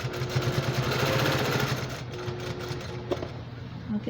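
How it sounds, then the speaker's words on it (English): A sewing machine runs steadily, stitching along the edge of a quilted fabric basket with batting, its motor humming and needle clattering rhythmically before slowing and stopping, with a voice talking over parts of it. "Now I'm going to sew it right along the edge here."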